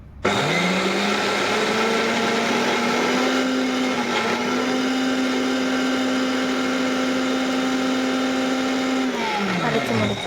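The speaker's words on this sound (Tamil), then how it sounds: "எல்லாத்தையும் போட்டு மிக்சியில் அரைக்கணும்." A mixer grinder grinding horse gram chutney whirs loudly and steadily for about ten seconds, starting abruptly and winding down at the end.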